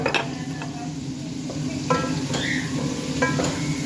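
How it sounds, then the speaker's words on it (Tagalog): Aromatics sautéing in a pan, a loud close sizzle with repeated stirring scrapes and light utensil knocks against the pan, no speech. "Maganda kasi pag ginigisa ang rekado."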